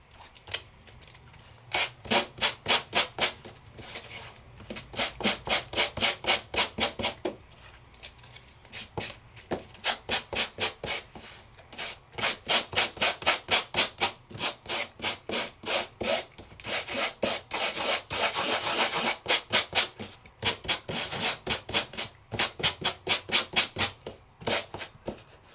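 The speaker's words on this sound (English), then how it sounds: "Now I could sand it more." Sanding an embossed card panel made with a large format embossing folder, rapid rhythmic scraping strokes close up in repeated bursts separated by short pauses.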